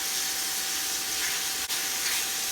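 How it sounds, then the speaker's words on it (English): Steady, loud hiss of steam venting from a pressure cooker with rinsed rice inside, continuous with a brief dip near the end and no talk. "I have it cooking in a pressure cooker"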